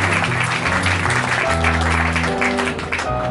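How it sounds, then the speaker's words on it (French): Steady applause from an audience during a speech at a magazine event in Lyon, continuous and fairly loud, with a sustained musical tone humming beneath the clapping throughout. "un grand merci et on vous applaudit"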